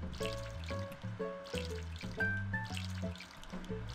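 Crops are watered in the video game Harvest Moon One World, a short trickle and splash effect that sounds over a steady, looping musical background.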